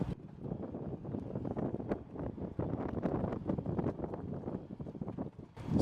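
EZGO electric golf cart, traded in non-running, rolling along at a beach setting with battery not secured; a steady low rumbling drive noise with rattles and wind buffeting throughout, moderately loud and without talk.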